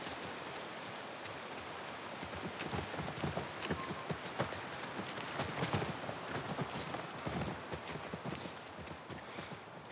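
Horse hooves clip-clop steadily in The Last of Us Part 1, a dense run of sharp, close hoof strikes over a soft rain-like hiss, with no talk.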